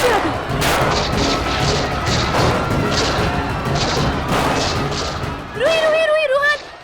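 In a Hindi TV drama scene, a rapid series of loud gunshots cracks out in evenly spaced bursts. Near the end, a voice cries out over the shots.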